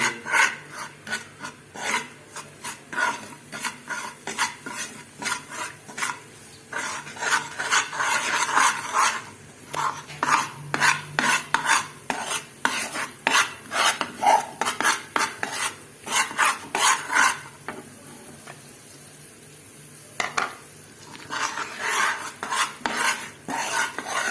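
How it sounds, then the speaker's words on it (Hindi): A spoon scrapes and stirs water chestnut flour browning in a pan, making a repeated rhythmic rasping that carries on steadily with short pauses, close by, with no talking. "जिस तरह आप सूजी को ब्राउन करते हैं इस तरह इसको आप हिलाते जाएं।"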